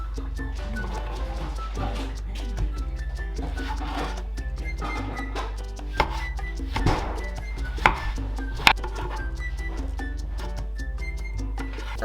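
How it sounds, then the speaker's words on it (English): A knife chops tomatoes on a cutting board in a steady, rapid series of close, crisp taps, with a few louder knocks. "Cut tomatoes."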